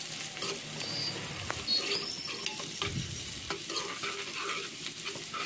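Onions fry in oil while a spoon stirs them, a soft continuous sizzle with repeated scraping strokes and light taps against the pan, close but fairly quiet, for a dondakaya curry.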